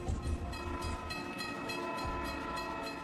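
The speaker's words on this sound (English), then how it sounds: "Emergency fuel gets passenger trains rolling again." A passenger train rolls along at steady speed, with a continuous rumble, rhythmic wheel clacks and faint tonal hums, moderately distant and without talk.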